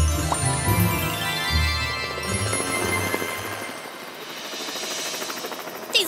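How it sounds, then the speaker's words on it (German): A cartoon helicopter, a pink character morphing into one in an animated kids' show, starts up with a steady rhythmic rotor chop over background music that lasts to the end. "Verwandle dich in einen Hubschrauber."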